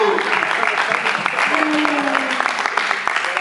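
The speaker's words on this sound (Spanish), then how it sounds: "recibámonos con un fuerte aplauso" An audience at a university engineering faculty event gives a strong round of applause to welcome a guest playing a former Mexican president. Sustained crowd clapping runs throughout, with a voice partly audible beneath it.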